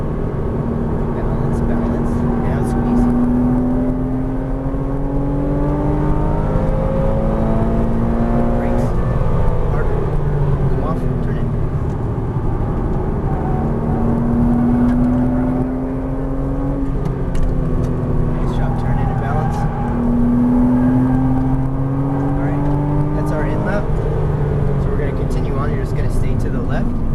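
Porsche Cayman R lapping a race track, its engine rising and falling in repeated revving pulls and shifts, loud and close inside the car, with an instructor talking over it.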